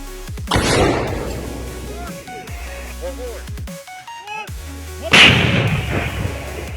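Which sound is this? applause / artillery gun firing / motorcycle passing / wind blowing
artillery gun firing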